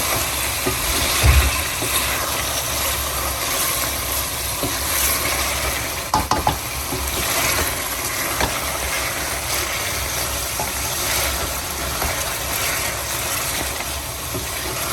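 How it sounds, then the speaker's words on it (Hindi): Spicy chicken with green chilies fries in a pan over a high flame, giving a steady, dense sizzle that runs without pause, with a few faint clinks of stirring and no voices. "इस मौके पर थोड़ा सा चूल्हा ऊंचा करें और तेज़ करके इसको भूनें"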